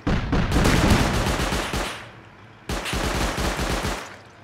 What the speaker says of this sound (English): the turret will start shooting at you